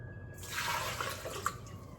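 Warm water splashes and trickles into a mixing bowl holding brown sugar, a quiet close pour that begins abruptly and runs steadily for over a second, with a small drip near the end.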